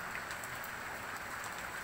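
Steady rain falls on outdoor surfaces beside a fish pond being cleaned, a continuous soft hiss with faint scattered drops, fairly quiet and even throughout with no talking.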